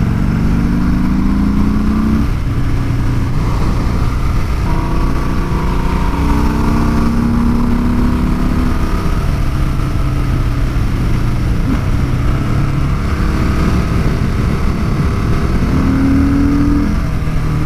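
A motorcycle engine labours steadily uphill on a mountain road near Lake Arrowhead, California, a continuous loud drone with wind rush, and the pitch rises and falls slightly as it strains and loses power.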